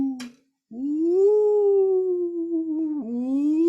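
A human voice imitates a ghost with a long, low, wavering "woo" that holds and sags, preceded by a brief sharp sound and followed by a second drawn-out moan, close and fairly loud.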